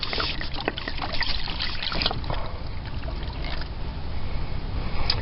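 Antifreeze coolant drains from an upper heater hose just pulled off the engine of a 2011 Chevrolet Cruze, a steady close trickle and splash of liquid that runs continuously with small irregular drips on top.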